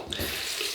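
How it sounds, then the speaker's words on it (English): Tap water runs steadily into a sink for a cold rinse after a wet shave with a Merkur 43c double-edge razor, a continuous close broadband splash with no talk. "We need a cold water rinse now."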